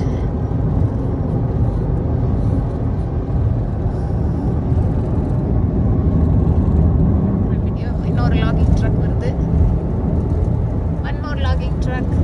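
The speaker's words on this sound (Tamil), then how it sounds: "Logging drug." A logging truck drives past on a highway, heard as a steady loud road roar from inside a moving vehicle, with a voice talking over it near the end.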